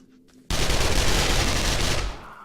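Sustained automatic gunfire from the BorderlandZ mod of 7 Days to Die, a loud rapid burst that starts abruptly and rattles on for about a second and a half before stopping.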